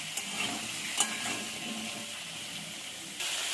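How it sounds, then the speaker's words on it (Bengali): Diced potatoes and chopped onion fry together in oil in a pan, giving a steady close sizzle with scraping stirs and a couple of louder clatters, with no talking. "আলু পেঁয়াজটা একসঙ্গে ভাজা ভাজা করে নেব।"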